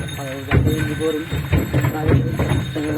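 Steady hoof clopping from a slow bullock cart, rhythmic thuds repeating throughout, with someone talking over it.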